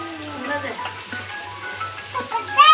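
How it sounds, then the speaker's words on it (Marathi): Onions frying in a pan for egg bhurji, a soft steady sizzle with light clinks, while a regular low hum pulses underneath and a brief squeak rises near the end. "यामध्ये टाकूया ऑनियन"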